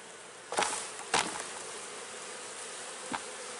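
Honey bees buzz in a dense, continuous hum around an open hive with a fume board, with a few louder passes close by as single bees fly near.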